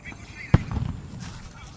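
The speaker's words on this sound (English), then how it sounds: "these guys are gonna throw a firecracker on this thing" A thrown firecracker goes off with a single sharp bang near a haunted house setting, followed by a brief rumbling tail, while voices carry on faintly in the background.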